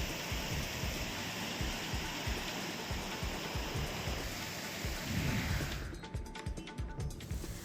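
Heavy downpour in the Umraj Kalwadi area of Junnar taluka, a loud, continuous roar of rain with deep rumbles of thunder rolling beneath it throughout.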